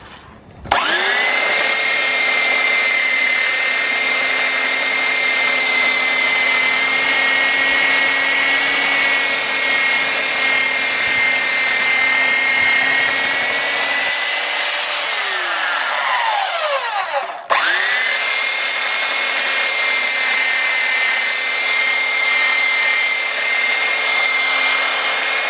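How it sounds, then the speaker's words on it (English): A belt sander with a 120 grit belt runs loudly on a cast iron picnic table, a continuous high whine and roar that winds down briefly, then spins straight back up to full speed. "Got the old belt sander. I'm using 120 grit"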